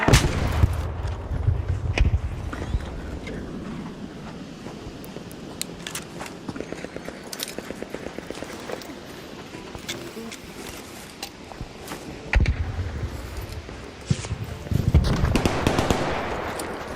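Gunshots crack in scattered bursts at close to middle distance, with a loud cluster near the start, a dense run of rapid reports in the middle and heavier blasts toward the end, over rustling movement.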